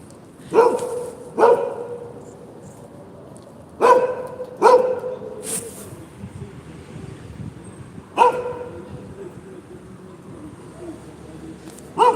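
A dog barks in short single barks spaced a few seconds apart, fairly near, with quiet background between them.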